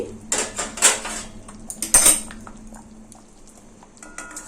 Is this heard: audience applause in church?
no